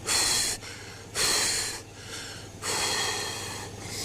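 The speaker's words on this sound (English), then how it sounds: "the deputy can be heard breathing heavily, still waiting for deputies to arrive" A sheriff's deputy breathes heavily into a body-worn camera microphone, three long, loud, close breaths separated by short pauses.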